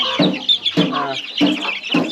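Kovakkari breed chicks and hens peep and cluck close by in a short series of about four bursts while drinking water on a farm.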